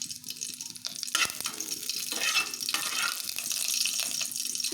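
Mustard seeds and cumin fry in hot oil in a home kitchen, giving a steady close sizzle with bursts of crackling and popping throughout, with no voices.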